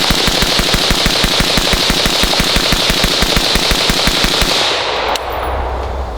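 Rapid, steady semi-automatic fire from a SIG MCX Spear LT rifle, slightly warm from earlier shots, with about thirty loud evenly spaced shots over five seconds, then an abrupt stop into low rumbling ambience.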